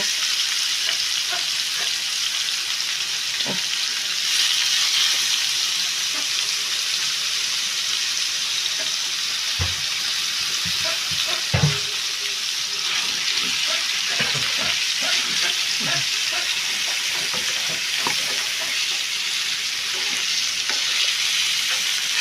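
Marinated chicken browning in butter in a baking tray, a continuous loud sizzle with occasional clinks and shifts as pieces are moved and turned, with no talking.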